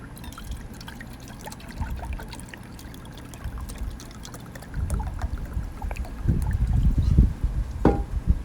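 Water is poured into a pot of chicken noodle soup, a steady low trickle and splash that grows fuller and louder toward the end, close by with no talk.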